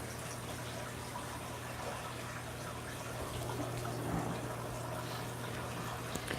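A Hydor powerhead pump circulates water in a saltwater aquarium, giving a steady, low, continuous hum and wash of moving water that stays level throughout.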